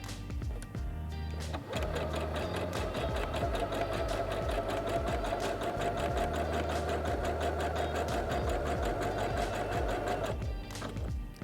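Singer Heavy Duty HD6805C sewing machine running steadily while stitching a wide zigzag, a fast rhythmic whirring and clatter for about nine seconds that starts and stops abruptly, close and alone.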